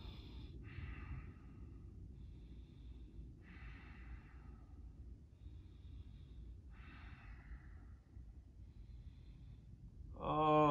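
Slow, deep breathing during a seated yoga twist, soft rhythmic inhales and exhales repeating about every three seconds, faint and close, with a louder noise at the end.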